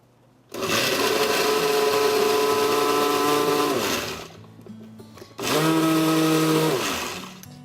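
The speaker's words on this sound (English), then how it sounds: "I have a blender here, and we're just going to puree your mango." Kitchen blender pureeing mango for a dessert sauce runs in two loud, whirring bursts, the first lasting about three and a half seconds, then a short pause before it starts up again, with no one talking.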